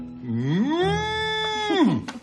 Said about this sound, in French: Tu vois, mon amour, la vache, elle meugle.